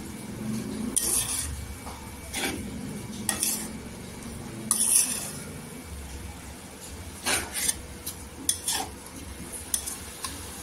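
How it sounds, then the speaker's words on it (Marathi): Spices sizzle softly in hot oil for dry fish curry while a spoon repeatedly scrapes and clinks against the pan in irregular strokes. "इथे मसाला मिक्स झाल्यानंतर मसाल्याला पण 1 सेकंड आपण तेलावर परतून घ्यायचं"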